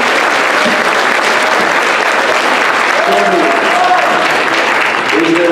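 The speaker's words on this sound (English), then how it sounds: "Everybody clap for Shelby for bringing up burritos." Loud, sustained audience applause filling a convention panel room at RTX 2017, a dense wash of clapping with scattered cheers and voices mixed in throughout.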